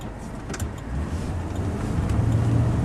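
A 1970 Ford Torino GT engine idles while warming up, a steady low rumble heard from nearby that swells slightly toward the end, with no talking.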